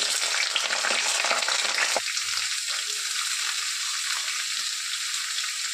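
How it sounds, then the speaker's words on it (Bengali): Flat beans and a small potato fry together in mustard oil, giving a loud, dense, close sizzle that eases slightly after a brief knock partway through and then carries on steadily. "দেখো এখানে প্রথমে আমি সর্ষের তেল দিয়ে দিচ্ছি। আমি সিমটাকে ভেজে নিব আর তার সাথে একটা ছোট দেখে আলু দিয়েছি।"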